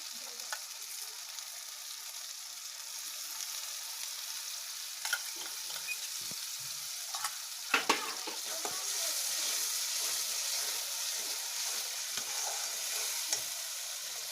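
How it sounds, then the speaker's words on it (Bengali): Cooked-down spice paste sizzling in oil as mustard paste goes in for a rohu fish malai curry, a steady soft fry with occasional spatula scrapes and clinks, close up and fairly quiet. "মশলাটা কষানো হয়ে গেছে, সর্ষে বাটা দিয়ে দিচ্ছি।"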